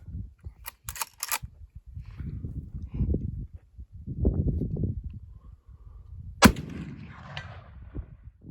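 A black powder 30-30 rifle loaded with 35 grains of 2F Swiss and a 150-grain jacketed soft point fires one loud, sharp shot at a long-range target, and its rumbling tail rolls out across open ground amid outdoor rustling and faint clicks.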